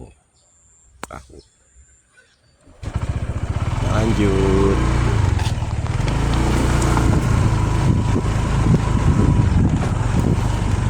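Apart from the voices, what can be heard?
motorboat engine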